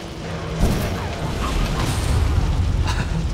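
A meteor crashes down and explodes in the video game Far Cry Primal, a deep booming impact followed by a rumbling, crackling aftermath lasting a few seconds, fairly loud with no talk.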